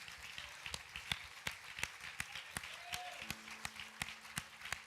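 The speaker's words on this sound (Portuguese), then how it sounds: "Você pode dar um aplauso ao Senhor?" Sparse clapping from a church congregation during a Sunday sermon, a modest number of individual claps in an uneven rhythm, fairly faint and distant, with a brief tone sounding partway through.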